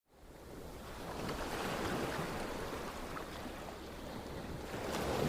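Ocean waves wash in a continuous broadband roar that swells steadily, loud and close with no voices.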